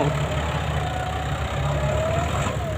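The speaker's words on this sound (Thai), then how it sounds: "โดยเจ้ารถไถ GS 115แรงมาทำการเกรดลงสาไปแล้ว" A 115-horsepower GS tractor grades dirt with a steady, loud engine drone, a constant low rumble with an even mid-range hum and no pauses or voices.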